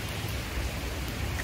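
Heavy rain pours down steadily in a continuous, dense wash of noise with no breaks, close and even throughout, with no voices.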